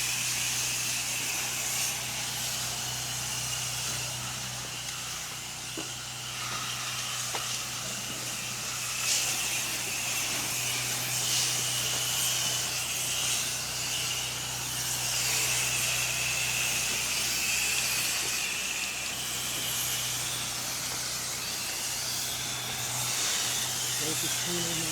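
A 4 GPM pressure washer sprays the back of a two-story house, giving a steady, unbroken hiss of water over a low continuous pump drone that holds level for the whole stretch.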